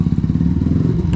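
Airsal CPI GTR 70 kit on a scooter engine revving hard near full revs, a loud, close, rough buzzing drone with rattly clatter and no voices.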